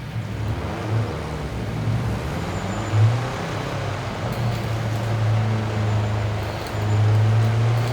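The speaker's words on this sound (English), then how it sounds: "We are riding this Subaru, my favorite rally car." Subaru rally car in the Forza Horizon racing game, a steady low engine drone running continuously with slight surges and rising a little toward the end, no talk over it.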